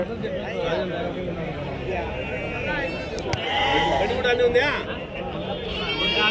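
At an outdoor sheep market, young rams bleat in short calls amid crowd chatter and people talking close by, the bleats partly buried under the voices and hubbub.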